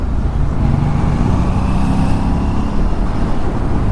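An Aprilia RS 457 motorcycle ridden home from the office, its engine a steady, loud, continuous drone close up, with wind and road rumble and no talking.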